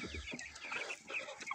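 A Liven marble chicken clucks in quick, close bursts, several short squawky calls in a row with no talking over them.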